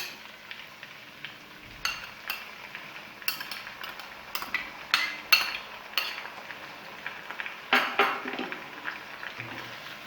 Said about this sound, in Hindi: इनको मिक्स कर लेंगे और 2 मिनट के लिए फ्राई कर लेंगे।